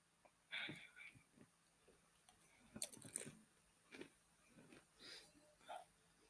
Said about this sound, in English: I'm eating a bag of crisps.